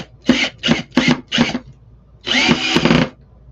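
A power drill drives screws into a wooden tray in four short close bursts, then one longer whir after a pause.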